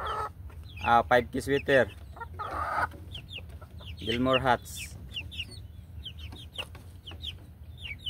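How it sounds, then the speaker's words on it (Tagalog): Native Bisaya chickens cluck and chirp through a noisy yard while someone talks over them for much of the time, the short bird calls scattered steadily between his phrases. "ini mga Bisaya atong manok guys"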